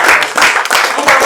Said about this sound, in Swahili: Tuwapigie makofi watu wa Mungu wote.